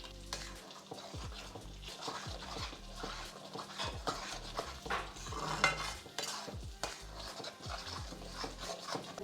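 A spoon stirs green chili paste into gongura chutney in a pan, giving soft, irregular scraping and clinking with a faint sizzle underneath, close and fairly quiet with no talk.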